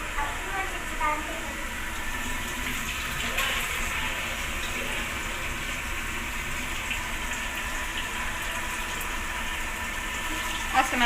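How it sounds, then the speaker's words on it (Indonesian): Hands are washed under a running water tap aboard a Merak–Bakauheni ferry: a steady rush of water blends with the ship's constant broadband hum, and voices talk over it. "aku mau cuci tangan"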